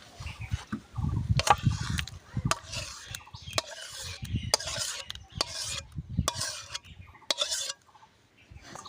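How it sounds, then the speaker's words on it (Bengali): Raw Langra mango pulp scooped into a mesh net strainer in a kitchen, giving repeated close, soft wet scraping and stirring sounds with sharp utensil clicks, no talking. "এবার আমের গুলাটা এর ভেতরে তুলে দেব।"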